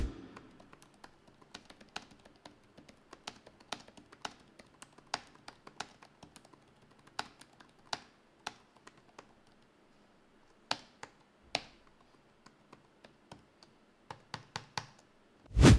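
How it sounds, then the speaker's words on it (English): Steady typing on an Asus TUF Gaming A16 laptop keyboard, quiet tactile key clicks in uneven bursts with brief pauses, close and fairly soft, with no talking. "Here's a quick typing test for your reference."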